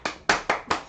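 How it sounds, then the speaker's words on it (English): Four sharp hand claps sound in quick, slightly uneven succession, close and crisp, with no talk around them. "Everyone starts clapping now."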